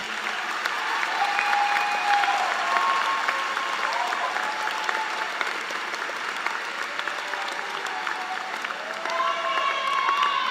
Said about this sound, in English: will the graduates please rise and give a round of applause